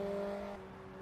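750 Formula race cars at Silverstone's Stowe corner, a steady engine drone with a strong held tone that eases slightly in loudness partway through, heard alone without talk.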